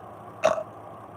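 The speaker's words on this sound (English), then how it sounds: "Burp." A single short burp lands near the middle, loud against a quiet background, with no talking around it.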